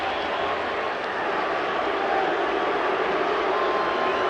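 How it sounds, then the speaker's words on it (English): Crowd at a 1981 Yankees baseball game booing: a dense, continuous roar of many voices fills the stadium, steady and loud throughout, with no single voice standing out. "Now you hear the boo birds"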